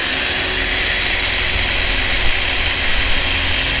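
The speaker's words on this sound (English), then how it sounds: "we're gonna drill a tiny pilot hole" A drill bores a tiny pilot hole in the hood of a 1979 coupe during a hood scoop install. It makes a loud, steady high-pitched whine that runs without a break from start to finish.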